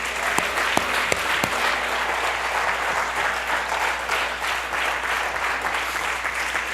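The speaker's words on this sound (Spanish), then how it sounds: "Démosle un aplauso al Señor." A church congregation applauding during a Spanish-language service, dense steady clapping filling the room with a few sharper individual claps standing out near the start, no speech over it.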